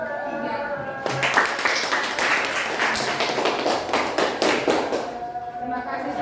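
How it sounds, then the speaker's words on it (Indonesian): A classroom group applauds a student presentation, with brisk, dense clapping from many hands that lasts several seconds and then fades, and a voice speaks over it. "Kita berikan aplaus buat kelompok tiga."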